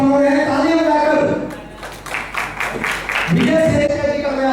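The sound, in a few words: audience clapping to welcome the guest of honor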